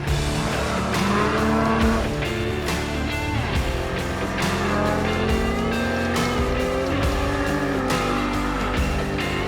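Off-road race vehicles at King of the Hammers shift and accelerate hard out of a rock section, engines loud and continuous with rising revs and some tire noise throughout.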